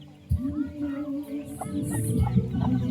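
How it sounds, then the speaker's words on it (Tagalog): A mother hen clucks repeatedly in low, throaty bursts close by, with faint chirps of her chicks and other birds in the background. "Inahin at ang kanyang mga sisiw."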